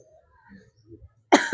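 A single sharp, loud human cough bursts out near the end after a quiet stretch, close to the microphone, from someone who is unwell.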